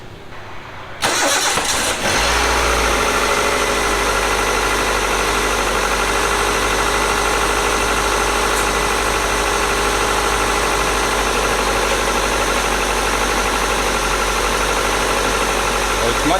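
A car engine with newly swapped injectors and new engine mounts turns over and settles into a loud, steady idle with a faint underlying knock, running continuously and close by.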